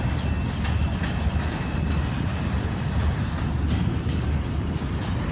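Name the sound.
long freight train passing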